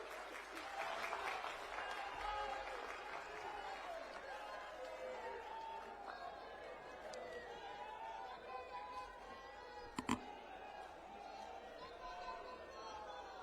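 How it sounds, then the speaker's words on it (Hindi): Crowd applause and cheering at an outdoor Aam Aadmi Party political rally welcoming Arvind Kejriwal, a steady sustained roar of clapping under a loudspeaker voice, with a couple of sharp knocks near the end. "जोरदार तालियों के साथ स्वागत कीजिए"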